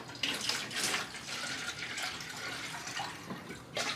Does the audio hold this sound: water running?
yes